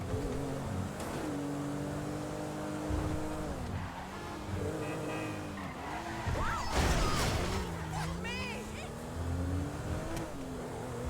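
A vehicle speeds along at steady volume, its engine note rising and falling with gear shifts and revving, joined by a brief crash-like clatter midway.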